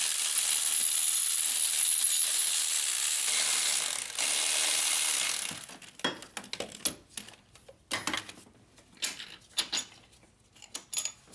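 Ratchet clicking in quick bursts while undoing the starter bolts on a VW Jetta TDI with a manual transmission, following a long steady hiss, with metallic clinks and pauses between the clicking runs.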